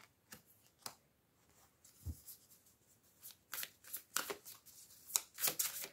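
Oracle cards are handled and shuffled close up in a quiet room, giving soft scattered flicks at first and then a denser run of crisp riffling bursts and slaps toward the end, with no talking.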